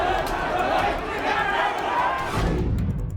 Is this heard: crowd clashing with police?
yes